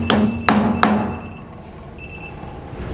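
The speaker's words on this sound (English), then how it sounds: "Take a hammer and then hit it." A hammer hits the clamp on a tire balancing machine three times in quick succession, each a sharp, ringing metallic knock, close and loud, followed by quiet shop ambience.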